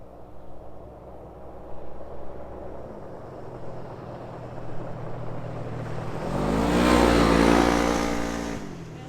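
Car accelerating along a dusty mountain road, engine rising from a distant low drone to a louder passing roar that peaks and then fades slightly, with no talk.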